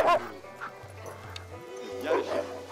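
Malamute sled dogs bark and yip in an excited, overlapping chorus before a dog sled run, close and loud, with a continuous low hum beneath.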